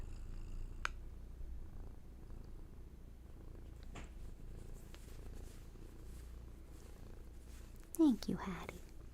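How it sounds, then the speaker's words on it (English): A cat purring softly and steadily as a low continuous rumble in a quiet room, with a louder, brief vocal sound near the end. "Let Hattie's purrs call you back."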